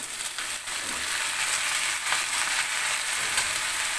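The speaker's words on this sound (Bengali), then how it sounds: "এখন সবজি আর মশলা একসঙ্গে কষাতে থাকবে" Vegetables with ground coriander and a ginger, garlic and cumin paste being sautéed in a pan give a steady, close sizzle and frying crackle, with faint stirring scrapes throughout and no voices.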